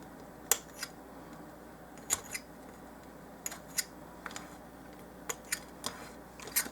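Small scissors snip up doll-size red onion slices in sparse, sharp clicks spaced irregularly over a quiet background, close and fairly faint, with no talking.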